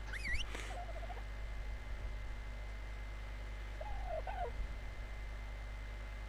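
Dodo bird squawking in the Ark survival game, two short warbling gobble-like calls a few seconds apart over a steady low background hum.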